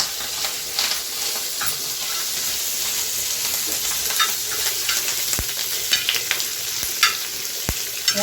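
Curry leaves crackle and sizzle as they hit a pan of liver roasting with pepper on a tawa, a steady loud frying hiss with occasional sharp pops and stirring, heard close with no voices.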